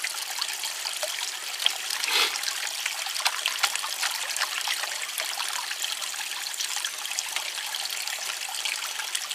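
Creek water trickles and sloshes steadily during gold panning in a North Carolina stream, a continuous close wash of running water with small splashes and no talk.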